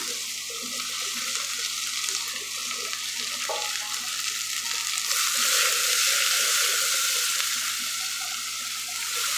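Chopped onions frying in a pan, giving a soft, continuous hiss and sizzle that grows slightly louder partway through, with no voices.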